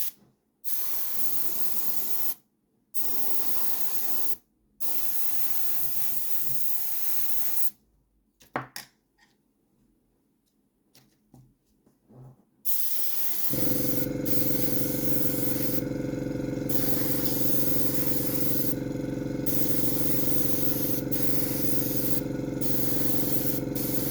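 An airbrush sprays Vallejo Model Air base coat onto a Dune Atreides ornithopter miniature, first in several short hissing bursts and then as a long continuous close hiss, with quieter handling noises between.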